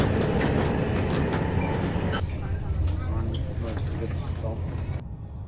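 A Chinese passenger train rumbles loudly close by with a steady low roar and rattling carriages, and people talk over it.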